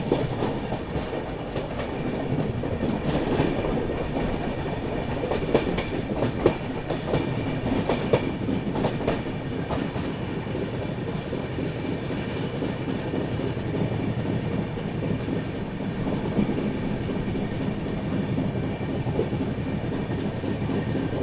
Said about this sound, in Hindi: अपनी हमसफ़र एक्सप्रेस घाट सेक्शन में चल रही है